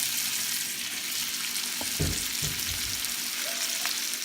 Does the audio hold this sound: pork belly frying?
yes